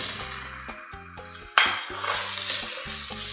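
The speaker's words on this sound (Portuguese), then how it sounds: "Olha o chiadão, que beleza." Bacon sizzling loudly in a hot pan for carbonara, with a bright spatter burst partway through and a utensil stirring and scraping against the pan.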